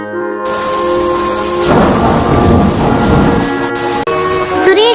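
Heavy rain pours steadily while a loud roll of thunder rumbles and builds, then fades, set as a story sound effect with no voices.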